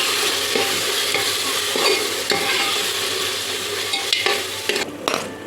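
Tomato and ground paste being stirred in a frying pan for vegetable pulao, a steady sizzle with repeated scraping strokes of a spoon against the pan, close and alone.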